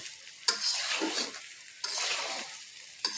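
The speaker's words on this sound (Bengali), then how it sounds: "ধনিয়া পাঁচফোড়ন আর সামান্য জিরের গুঁড়ো আর লবণ মশলার সাথে ভালোভাবে এখন আমি কচুটা মিশিয়ে নেব" Taro chunks with coriander, panch phoron, cumin powder and salt are stirred in a frying pan, giving three long scraping strokes over a soft oily sizzle with no voices.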